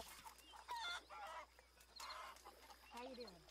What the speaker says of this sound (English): How you doing? Chickens!